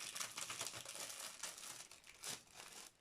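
Packaging crinkles and rustles as a parcel of small labels is unwrapped, a quiet close series of irregular crackling bursts with brief tearing, no voices.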